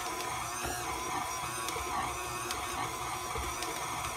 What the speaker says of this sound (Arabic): غادي نديروها في الماكينه تعجن غير بشويه